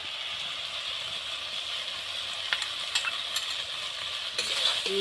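Ginger, garlic, cumin and green chilli paste stirred into small fish frying in a pan, with a steady close sizzle and scattered scraping stir clicks, louder toward the end, no talking.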